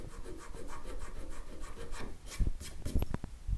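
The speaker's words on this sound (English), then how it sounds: "Just work your way through the grits, getting rid of any of the little marks" Guitar frets on a Telecaster are rubbed with abrasive paper in quick back-and-forth strokes, giving a close, continuous scratchy rasp that ends in a few sharper scrapes and knocks.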